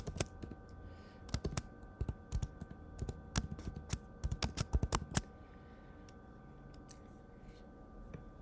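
Quick bursts of computer keyboard typing, clustered irregular key clicks close to the microphone, entering a polynomial into a graphing program, then tapering off into quiet.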